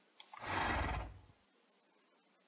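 A horse in the Minecraft video game gives a single loud, drawn-out whinny lasting under a second after a few short clicks, then the scene falls nearly quiet.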